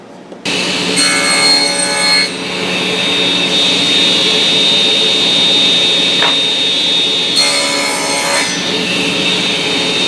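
A CNC router bit grooves wood as a shop-made hold-down takes shape, a loud steady machining whine with harsh high-pitched cutting bursts near the start and again toward the end, no voices.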